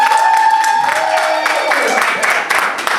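Audience at a stand-up comedy show applauds with loud clapping and some cheering, mixed with crowd noise and voices, continuing for a few seconds.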